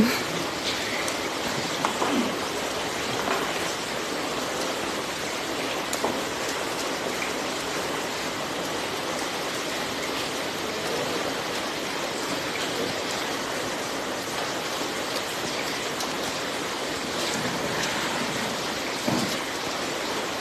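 Steady, broadband hiss of rain falling outdoors, continuous and fairly close, with no voices present.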